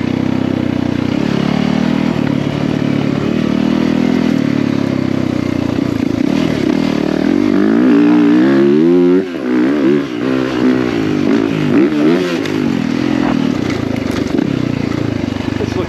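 A 450 dirt bike engine revs hard while riding, a loud continuous roar with pitch rising and falling through throttle changes and a sharp surge midway, with clattering over rough ground.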